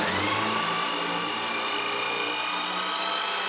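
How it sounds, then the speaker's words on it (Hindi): An electric drill bores a hole in a wall at home, a continuous loud high-pitched whine and grinding held steady throughout, close by and with no talking. "आपको वॉल होल करके आपको दिखाता हूँ।"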